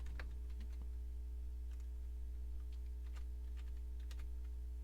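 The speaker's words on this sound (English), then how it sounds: "we're going to type in my name" Typing on a computer keyboard while setting up Windows XP in VirtualBox: scattered quiet key clicks in irregular bursts over a steady low electrical hum, close by and with no talking.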